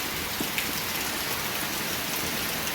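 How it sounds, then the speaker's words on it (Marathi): Steady rain falls in Konkan, a soft, even hiss of drops on surfaces with a few faint individual drips, continuous and fairly quiet, with no voices. "आता पाऊस आहे ना थोडा कमी होते नाही परत भिजायला होईल"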